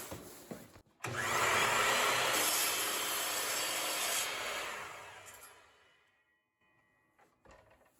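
A Bosch miter saw cuts through wood with dust collection running, a loud sustained whine and roar lasting about four seconds before winding down and fading to near quiet with faint handling noises.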